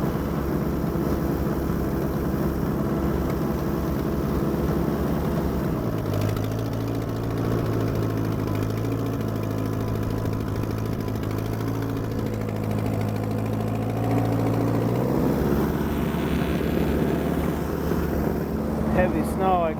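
An Allis Chalmers D14 tractor engine drones steadily as it pushes heavy snow, close and loud under wind noise, its pitch dropping and holding lower in the middle before rising again.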